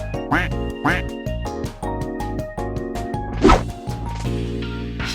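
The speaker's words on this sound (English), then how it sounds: "They quack when you walk." Squeaky rubber-duck quacks from novelty slippers sound with each step in a rhythmic run of about eight bright quacks, close and loud, with a few thumps and a brief voice near the end.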